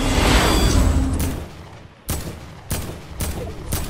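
Bursts of video game gunfire in a first-person shooter: a dense volley at the start, then three or four sharp separate shots after a short lull, loud and close with no talk.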